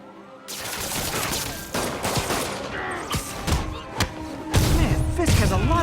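Gunfire rings out in Marvel's Spider-Man, with a rapid string of close, sharp shots and heavy thuds amid combat clatter that grows louder toward the end.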